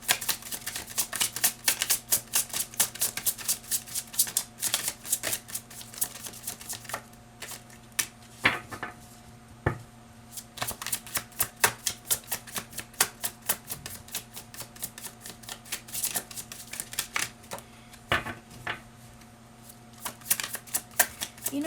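Tarot cards shuffled and drawn by hand, a long run of quick crisp riffling clicks and flicks, close and steady, with a few sharper snaps of cards being pulled and laid down.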